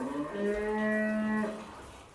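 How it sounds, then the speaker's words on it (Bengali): A cow at a cattle ranch of large cattle, including Dexter breed, gives one long, loud, close moo lasting over a second, with no talking. "মাশাআল্লাহ, এখানে সব বড় বড় গরুগুলা রাখছে।"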